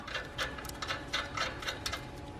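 A nut is threaded back onto the airbag suspension of a BMW F30/F80/F82 by hand, giving a quick run of light metallic clicks and ratcheting ticks, close and fairly quiet, with no speech.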